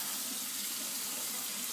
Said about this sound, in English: some kid told us to wash it off very hard with water